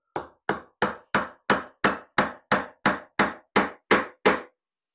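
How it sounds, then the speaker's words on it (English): A wooden dowel is driven into a glued hole for a dowelled butt joint with thirteen sharp, evenly spaced taps, close and clear, with nothing else heard. "push in the dowel"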